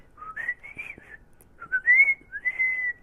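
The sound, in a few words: whistling imitating a bird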